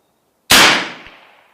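A single sharp crack from an Evanix Viper .25 caliber airgun fired on a range, loud and close, with a quick decaying tail and a faint knock just after.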